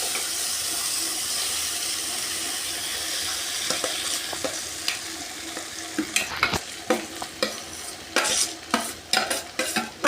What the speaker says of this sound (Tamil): மாங்காய் சேர்த்துக்கணும், நல்லா வதக்கிக்கணும்.